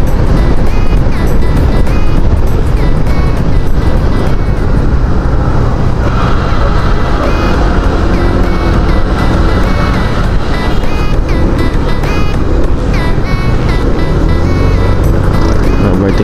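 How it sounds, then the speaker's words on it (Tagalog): Dense, roaring traffic on a busy road heard from a Honda PCX160 scooter while riding, a steady loud wash of engines and wind with no breaks, picked up by an external helmet mic. "Medyo busy ngayon ng kalsada."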